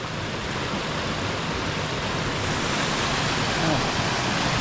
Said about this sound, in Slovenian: Tudi potok je čudovit, take super kaskade so